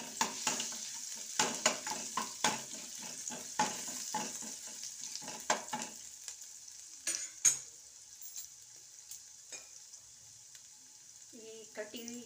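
Grated ginger fries in hot oil in a pan, giving a crackling sizzle with rapid stirring scrapes that thin out midway into quieter sparse pops, followed by a faint voice near the end.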